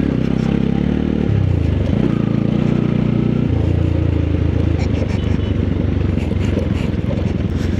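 A motorcycle rides on a rough, slippery riverbed track on a poor road in Nepal, its engine droning loudly and steadily with shifting pitch, mixed with clattering and scraping from the stony ground.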